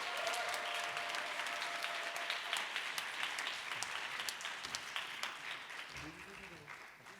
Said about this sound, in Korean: 우리 세 분 교육자님들 앞으로 나오실 때 우리 박수 한번 해주시면 감사하겠습니다.